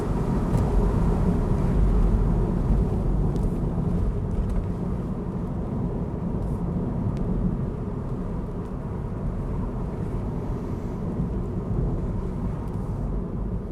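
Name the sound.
car driving in third gear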